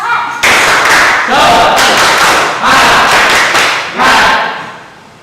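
A school class claps a rhythmic spirit cheer in loud, punchy bursts, several sharp clusters of hands in a patterned beat, with children's voices joining in and the last burst fading out.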